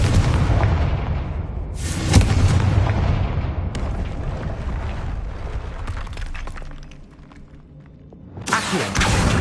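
Confringo fire-blasting spells explode in Hogwarts Legacy: several loud shattering booms, with one burst early, another near the middle and a final heavy blast at the end, each trailing into rumble.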